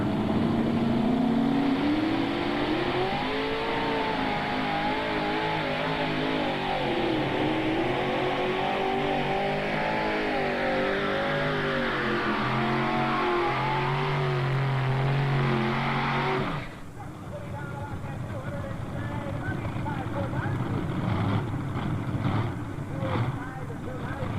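A naturally aspirated Chevrolet-powered 7,200-pound modified pulling tractor roars loudly at full throttle at a 1995 tractor pull in Imlay City, Michigan, sustained for about sixteen seconds before cutting off abruptly, leaving quieter crowd and engine noise.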